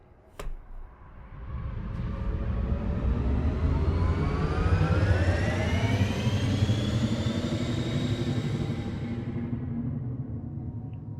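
Engines of an Imperial Cutter starship in Elite: Dangerous spool up from a standing start, a rising whine and roar that climbs steadily in pitch and stays loud for about ten seconds, with no talking.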